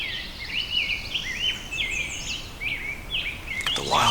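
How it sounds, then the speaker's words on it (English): Songbirds sing in a wildflower reserve at Raccoon Creek State Park, Pennsylvania, with clear warbling phrases repeated over soft outdoor ambience and a brief rustle at the end. "Just hear the birds singing."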